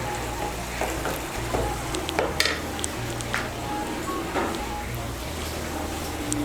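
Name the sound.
bottle gourd greens cooking over raised heat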